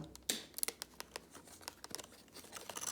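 An Iron Man toy box gets ripped open by hand, with close, irregular snips, tears and crinkles of cardboard and plastic packaging that quicken toward the end, and no voices.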